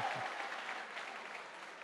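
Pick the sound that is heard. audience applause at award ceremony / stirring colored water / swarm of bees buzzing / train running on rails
audience applause at award ceremony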